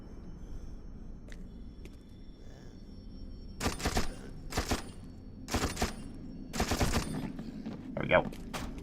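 Several loud shotgun blasts in the shooter game You Are Empty, about four or five heavy booms spaced roughly a second apart, rising over a quieter background with a voice talking at times.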